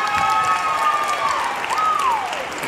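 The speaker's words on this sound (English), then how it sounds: "can we please give another round of applause for all of our soloists?" An audience at a school band's winter jazz concert applauds the soloists with a dense, sustained patter of clapping. A sliding whistle-like tone rises and falls over it.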